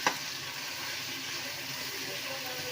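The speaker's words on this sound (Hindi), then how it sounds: "हमारा तेल गर्म हो चुका है, हम इसमें ऐड कर देंगे प्याज और इसको अच्छी तरह लाल कर देंगे" Chopped onions fry in hot oil for a beef kofta curry, a soft, steady sizzle heard alone and fairly quiet throughout.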